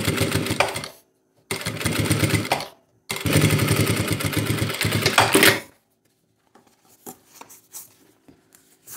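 A sewing machine topstitches a seam on a fabric shoulder bag in three loud, close bursts of rapid mechanical stitching separated by short pauses, then fainter handling noises follow.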